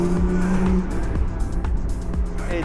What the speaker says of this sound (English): The car sounds amazing, honestly.